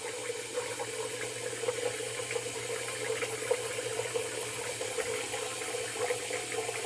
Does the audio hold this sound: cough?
no